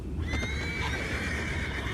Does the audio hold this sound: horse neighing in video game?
yes